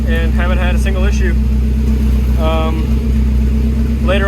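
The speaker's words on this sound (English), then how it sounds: "I'm gonna go put the exhaust on so it'll be quiet, because this is very obnoxious" A car engine running with no exhaust fitted, loud and droning as it idles close by, with someone talking over it in short bursts.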